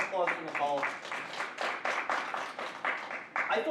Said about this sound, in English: Can we have a round of applause for Nicole?